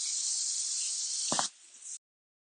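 Steady, loud hiss of a spray gun spraying primer onto an Opel Manta GTE bonnet, running continuously for about two seconds before cutting off abruptly, with a brief low thump partway through.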